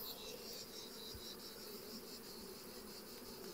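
Honeybees hum around a newly made swarm, a faint continuous drone with steady high buzzing tones pulsing softly and no voices.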